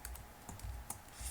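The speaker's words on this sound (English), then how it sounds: "what I need to type in is crypt setup, and I'm going to type in lux format" A computer keyboard being typed on for a Linux cryptsetup disk encryption command, with a few quick soft keystroke clicks spread irregularly over a faint, quiet background.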